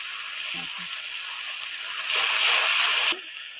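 Chili paste and flattened-rice paste hitting a hot pan, a broad steady sizzle that swells sharply for about a second and then settles, heard close up with faint voice traces early on.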